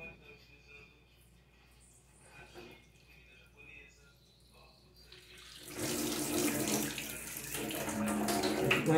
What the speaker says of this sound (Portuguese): Sempre fica um restinho de água no cano e isso é normal sair